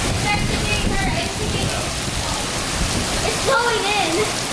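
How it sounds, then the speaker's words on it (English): Heavy rain pours down during an afternoon thunderstorm on a trail, a dense, steady hiss of water close by, with faint voices underneath. "This is raining harder than before."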